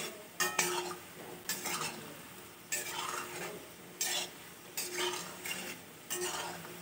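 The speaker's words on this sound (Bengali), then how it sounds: "আমি একটু মিডিয়াম আঁচে বড়াগুলো ভাজবো, নাহলে ভেতরটা কাঁচা থেকে যাবে।" Ripe banana fritters frying in a pan over medium heat, with a soft steady sizzle broken by repeated bursts of stirring and utensils clinking against the pan, no voices.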